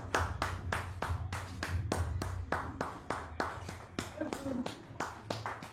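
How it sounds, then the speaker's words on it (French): Studio audience at a television talk show clapping, sharp distinct hand claps in an uneven rhythm, fairly close and moderately loud, with a low hum under it. "Merci de la recevoir sous vos applaudissements."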